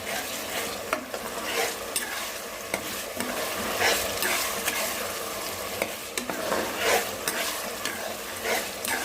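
Ginger garlic paste frying in hot oil for a gongura prawn curry makes a continuous sizzle, broken by repeated scraping stirs of a utensil against the pan.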